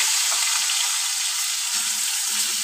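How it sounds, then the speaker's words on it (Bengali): Sliced tomatoes fry in a pan with a green chilli for a mustard-sauce parshe fish dish, giving a steady, close, continuous hiss and sizzle throughout with no talking. "লম্বা করে স্লাইস করে রাখা টমেটোগুলো দিয়ে দিলাম। এবার এটাকে একটু ভেজে নেব।"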